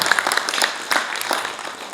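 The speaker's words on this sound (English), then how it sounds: "Can we clap our hands together?" An audience at a talk on Pan-Africanism claps their hands together in a loud, dense burst of applause that stays fairly even across the short stretch, with a few sharper claps standing out.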